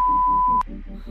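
A comedy lie-detector effect gives one steady, clear electronic tone lasting about half a second. It then cuts off, and a voice carries on talking.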